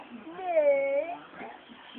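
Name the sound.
cat meowing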